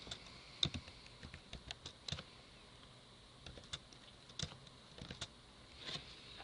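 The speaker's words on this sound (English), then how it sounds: "I'm just going to do this by typing it in." Irregular bursts of keystrokes clatter on a computer keyboard, quiet and close, with short pauses between runs of typing.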